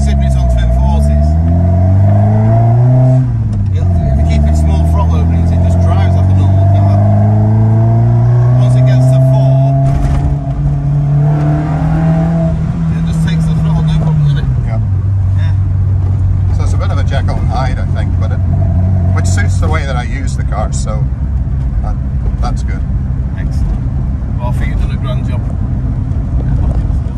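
A loud car engine on twin 40 carburettors drones and revs up and down in long sweeps on a dyno, holding steady pitches between climbs, heavy and close throughout.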